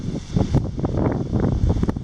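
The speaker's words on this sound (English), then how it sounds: "Oh my goodness, it's still windy." Gusty wind buffets the microphone at an old house site during metal detecting, with a constant roar and rumble, loud and close, no voices heard.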